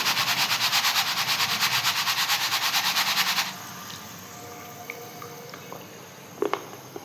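Loud, dense sizzling and crackling of chana dal frying in hot oil, pulsing evenly at first, then quieter bubbling with a few scattered pops.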